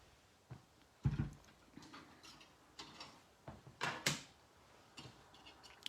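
A card-cutting machine crunches and creaks as it works through the edges of a card, with a few loud gritty bursts among softer scraping and clicking in a quiet room.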